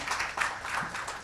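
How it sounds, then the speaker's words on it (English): Audience at a book launch gives a short burst of dense, steady applause, moderately loud and without voices. "Big round of applause for him."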